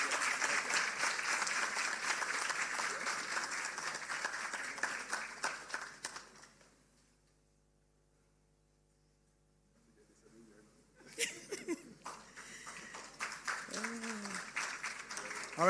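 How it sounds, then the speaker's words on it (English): At an awards ceremony, the audience gives a sustained round of applause that dies away into near silence. More scattered clapping follows, along with voices. "Give them another round of applause,"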